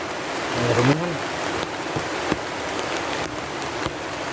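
Steady rain hisses across the whole clip with scattered drops striking a surface, and a brief voice rises early beneath the downpour.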